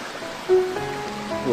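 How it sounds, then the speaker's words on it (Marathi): A forest stream flows along a trek route to Sagargad, a steady close rush of water with faint tonal sounds drifting over it. "छान ओढा इथे"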